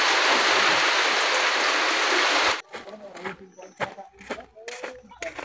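Steady rain hisses loudly during a net-fishing outing in shallow water, then stops abruptly halfway through, leaving scattered close handling clatter and faint rustling.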